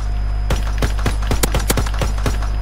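Gunfire in the Call of Duty: WWII video game, a string of about eight sharp shots in an irregular burst, fairly loud over a steady low game hum.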